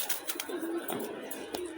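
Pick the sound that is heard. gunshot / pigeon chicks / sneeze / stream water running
pigeon chicks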